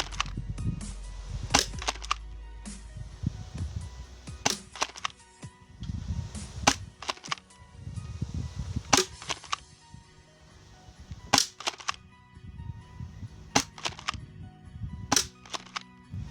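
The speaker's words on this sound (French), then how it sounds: "Donc là les tirs s'effectuent toujours à 5 mètres." Airsoft shots strike goggles from 5 metres away, producing sharp cracking impacts in irregular bursts, some single and some in quick pairs, over a quiet background.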